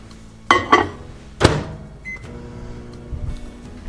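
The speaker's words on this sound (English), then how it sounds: "I'm going to actually microwave that real quick." A microwave oven warms butter, its door latch clicking and a short beep sounding, followed by the low steady hum of the running oven nearby.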